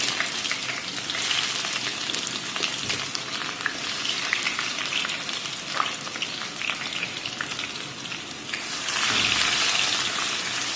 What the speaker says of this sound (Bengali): তেল গরম হয়ে গিয়েছে, দিয়ে দিচ্ছি পেঁয়াজ।